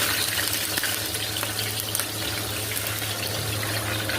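Crushed dried red chillies sizzle in hot coconut oil in a large batch for about 35 people. The frying crackles and hisses steadily, close by, over a low electrical hum.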